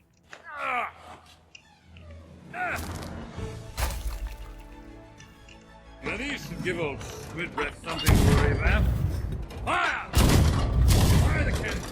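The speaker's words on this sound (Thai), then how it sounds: "เอาปืนใหญ่ สองอันเนี่ย ลงมาแล้วก็ระดมยิงใส่เดวิสโจนที่อยู่ในบาเรียตรงนี้" Heavy cannon booms go off repeatedly amid clanking game effects and music, growing louder and denser toward the end, as ship cannons bombard Davy Jones inside a barrier in the video game Sea of Thieves.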